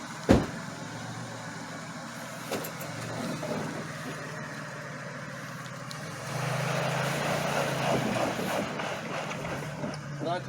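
Jeep Wrangler Willys two-door on slick ground, engine idling and then revving harder as it is gassed while braking, with a sharp knock near the start and people talking over the steady drone.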